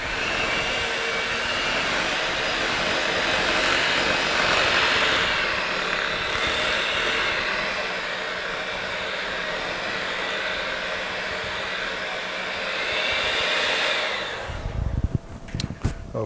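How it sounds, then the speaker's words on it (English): An electric mixer whirs loudly and steadily for about fourteen seconds, blending spinach-artichoke dip with leek or onion soup mix, then cuts off with a few clattering knocks. "now I'm gonna mix that in there"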